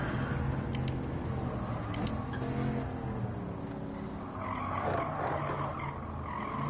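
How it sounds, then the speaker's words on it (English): A race car brakes hard in Gran Turismo 7, played in PSVR2, with a steady engine drone and tyres skidding and squealing through a corner, loud and continuous with no talk over it. "Let's try a little braking right here"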